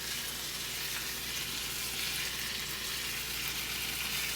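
Meat frying in a pot, a dense, steady sizzle that stays loud and close throughout, with no talking.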